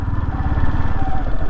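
A motorbike engine runs steadily and loud throughout, a continuous low throbbing drone on a forest road, with no voices over it.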